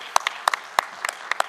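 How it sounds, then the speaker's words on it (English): At an award ceremony, a few people clap for the team in sparse, sharp hand claps, roughly two quick claps at a time, close and distinct. "Huge round of applause for the team."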